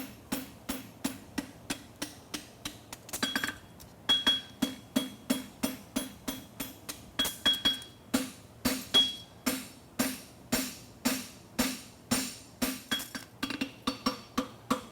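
Steady, rhythmic hammer blows ringing on a horseshoe at a blacksmith championship, dozens of sharp metallic strikes in quick succession with brief pauses, close and clear.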